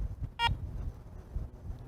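A Garrett ACE 400 metal detector emits a single short, clear electronic power-on beep over quiet background noise.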